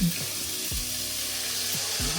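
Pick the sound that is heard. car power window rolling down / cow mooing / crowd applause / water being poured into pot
water being poured into pot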